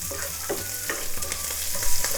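Cumin seeds crackling in hot oil with green chili and curry leaves, a close, busy sizzle with small pops and a few stirring scrapes, and no voice over it.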